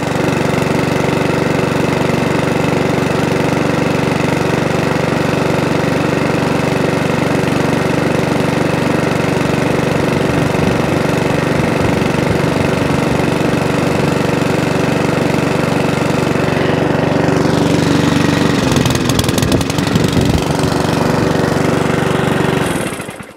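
A lawnmower engine runs on E10 petrol with a loud, steady idle close by and a constant drone throughout. It is cut off abruptly near the end, and no one talks over it.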